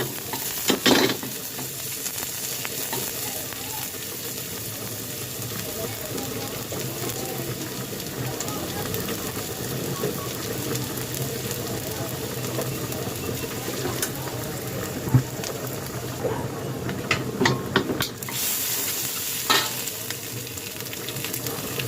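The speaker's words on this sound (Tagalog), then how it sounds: "Tapos lagay na natin yung garlic at onion, sabay natin." Garlic and onion frying together in rendered chicken fat, a steady dense sizzle running throughout with occasional stirring scrapes and clinks, close and moderately loud.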